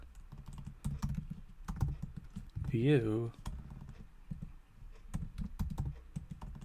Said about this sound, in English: this is what happens when you type really quick on the keyboard